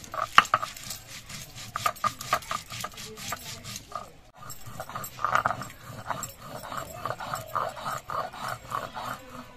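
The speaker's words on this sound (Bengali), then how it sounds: "এবার সবকিছু আমি একসঙ্গে বেটে নেব।" Spices being ground together into a fine paste for a pangas fish curry, a steady rough rubbing and scraping that keeps going with uneven strokes and a few louder knocks, close by and with no talking.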